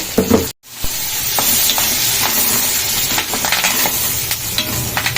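Green chillies and curry leaves sizzle in a pan with ginger-garlic paste, a steady close frying hiss broken by stirring scrapes and one brief gap near the start; no one speaks.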